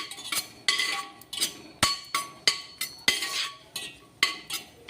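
A spoon stirs cashews and grated coconut roasting in a pan for traditional khapli wheat kheer, making close, regular metallic clinks and scrapes about twice a second with no speech.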